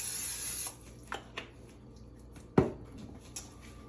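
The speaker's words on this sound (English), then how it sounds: "I'm gonna take this spray olive oil and coat the pan real quick," Olive oil cooking spray hisses onto a pan in a brief opening burst, followed by a few faint clicks and a light clatter of cookware, with no talking.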